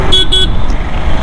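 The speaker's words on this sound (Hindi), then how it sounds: "हॉर्न ऐसा बजता है इसका" Two short, bright beeps from the horn of a Yamaha Aerox 155 scooter, sounding close and loud over a low background hum.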